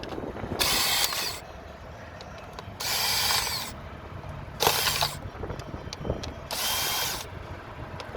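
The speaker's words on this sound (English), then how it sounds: "So you'll need an 8mm socket." A ratchet fitted with an 8mm socket turns coil pack bolts on a Ford Transit Connect, giving four separate bursts of rapid clicking, each about a second long, with quieter gaps between.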